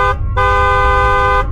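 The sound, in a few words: bus horn honking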